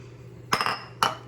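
Two sharp clinks from chocolate being added to egg yolks in a bowl ring out about half a second apart, close and crisp over a quiet kitchen hum.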